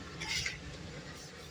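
Ice cubes clatter and scrape briefly as they are dropped into the water tank at the back of an evaporative air cooler, a short bright rattle near the start that fades into a low steady hum.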